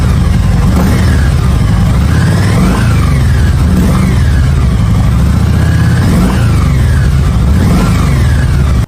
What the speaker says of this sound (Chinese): VN1700用的是一台水冷1700cc 4冲程50度微型双缸发动机